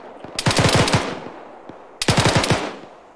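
Two loud bursts of rapid automatic gunfire in a military video game, each a quick rattle of several shots with echoing tails, separated by a short lull with faint distant pops.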